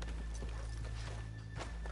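Horses in Red Dead Redemption 2 give faint, muffled hoofbeats under a low steady hum, with a couple of soft clops standing out toward the end.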